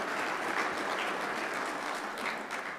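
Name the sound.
applause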